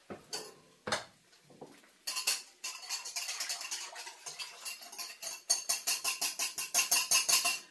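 A utensil stirs garlic in a pan, making sparse scrapes and clinks that build into a quick, steady run of close metallic taps and scrapes, with no voices.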